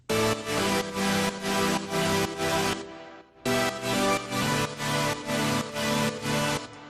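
Bright, wide supersaw synth chords pulse in rhythmic, sidechained bursts with reverb and a lush string layer, pausing briefly midway before resuming.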